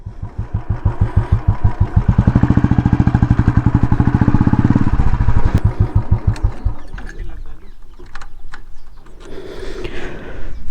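A Royal Enfield motorcycle engine thumps loudly and close with a rapid, even single-cylinder beat, rising then easing off as the ride slows near a waterfall trail, ending in rougher idling with some background noise.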